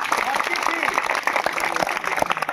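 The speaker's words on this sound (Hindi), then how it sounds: "ताली मारो" A crowd at a village magic show breaks into steady applause, a dense patter of hand claps. A voice is heard over the clapping.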